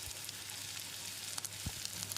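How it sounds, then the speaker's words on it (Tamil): Chopped onion and crushed ginger sizzle in a hot pan with curry leaves for leftover idli, giving a continuous close hiss with small pops. "வெங்காயத்தை செவந்து வர்ற அளவுக்கு வதக்கிடலாம்."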